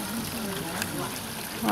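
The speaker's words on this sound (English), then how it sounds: "you see they got a nice little waterfall going on for them" Small waterfall trickling into a turtle pond, a steady, close splashing wash of water with no break.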